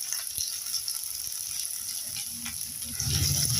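Chopped onion sautéing in hot oil with fenugreek for a brinjal and drumstick sambar: a soft, steady sizzle with faint crackles that swells louder near the end, while a voice talks quietly.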